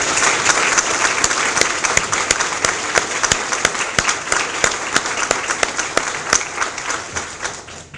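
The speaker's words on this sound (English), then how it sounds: "Let's give another big round of applause for all of" An audience at an evening awards gala gives a big round of applause, dense and loud throughout with crisp individual claps standing out, tapering slightly at the close.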